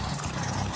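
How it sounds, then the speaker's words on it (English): A riding lawnmower engine revs hard as the driver stomps on the gas, a steady, loud, close mechanical roar filling the whole moment with no voices over it. "As James revved the engine and stomped on the gas"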